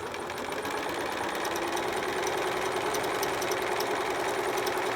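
A sewing machine runs steadily and loudly up close while sewing a small preemie shirt, a constant buzzing whir with no pauses.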